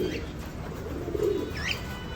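Fancy pigeons cooing softly in a loft, a low murmuring coo rising around the middle of a short stretch, with faint chirps and steady background noise.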